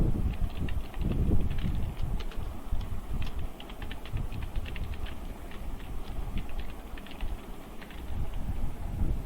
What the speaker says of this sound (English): Let us type it